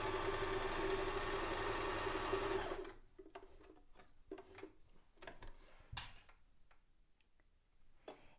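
A sewing machine runs a straight stitch fixing tulle onto base fabric, a loud steady whirring hum that stops after about three seconds, followed by scattered quiet clicks and handling of fabric, with no one talking.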